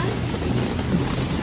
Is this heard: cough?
no